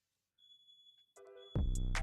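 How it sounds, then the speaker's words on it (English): Fire alarm beeping indoors: a steady high tone pierces the room, then a louder burst of overlapping alarm tones and rumble takes over near the end. "there's fire alarms going off"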